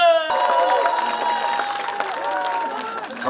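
A festival crowd at a Chuseok holiday stage performance cheers and claps as a singer is welcomed on, a dense wash of applause with shouts and whoops, while music plays underneath.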